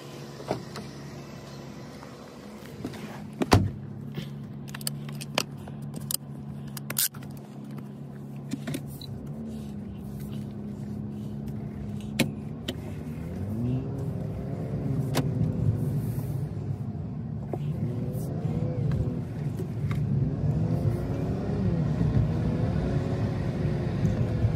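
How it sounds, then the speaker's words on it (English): A car drives across a parking lot: a steady low engine rumble and tyre noise that gradually grows fuller and louder, with a few sharp clicks and knocks early on. "So I'm going to go ahead and drive over there."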